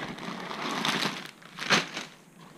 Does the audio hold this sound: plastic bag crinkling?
yes